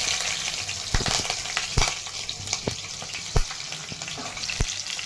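Whole spices, bay leaf and green chili fry in hot oil for dum aloo, a steady close sizzle broken by sharp spitting pops and occasional stirring scrapes.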